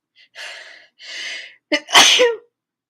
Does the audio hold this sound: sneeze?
yes